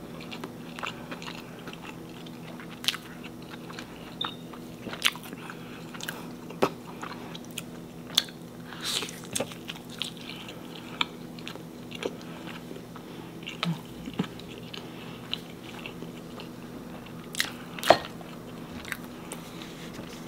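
A birria de res taco dipped in consomme is eaten up close. Repeated crunchy bites and wet chewing come in an irregular rhythm with no talking.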